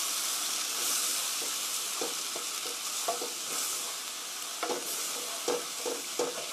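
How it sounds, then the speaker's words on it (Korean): A pan of broccoli cream sauce being stirred as milk is added, a soft steady sizzling hiss with scattered scraping and clinking strokes of the utensil, close and fairly faint. "저어가면서 우유를 넣어주시고요"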